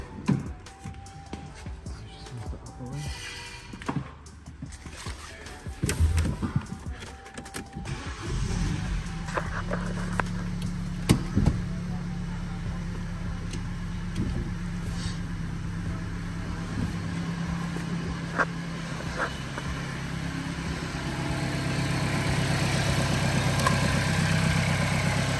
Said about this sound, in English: the engine oil is all filled up and it's time to give the car a start